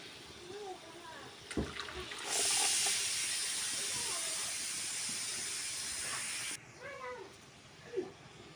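A pan of water comes to a boil for cooking silver carp, giving a loud steady hiss that rises suddenly and cuts off after several seconds, with faint bubbling and scattered clinks around it.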